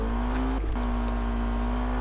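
Car engine in the Need for Speed video game as VTEC engages, a loud sustained engine drone that briefly dips then jumps to a higher, harder pitch and holds steady.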